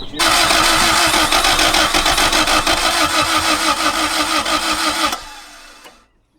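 A Toyota MR2 MK1 engine cranks hard in a loud, rapid rhythmic churn for about five seconds, then cuts off and winds down.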